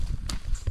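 A tethered horse on farmland shifts its hooves, giving a few soft clip-clop knocks over a dull low background.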